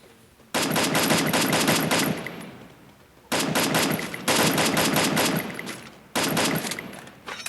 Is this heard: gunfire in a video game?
yes